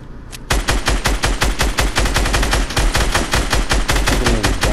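Rapid automatic gunfire in the video game Fortnite, a loud continuous burst of fast repeated shots that starts abruptly and keeps going without pause.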